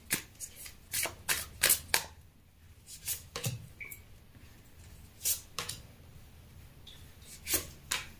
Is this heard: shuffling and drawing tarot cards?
yes